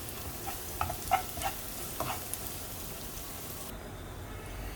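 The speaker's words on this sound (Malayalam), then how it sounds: "ചില്ലി ഫ്ലേക്സ് ഒരു രണ്ട് ടേബിൾ സ്പൂൺ ചേർത്ത് കൊടുക്കാം ടീ ടീസ്പൂൺ രണ്ട് ടീസ്പൂൺ ചേർക്കാം അതും കൂടെ നന്നായിട്ടൊന്ന് ഇളക്കാം" Chili flakes frying in a pan for a papaya stir fry, stirred with a few close scraping knocks of the spoon over a soft, steady sizzle.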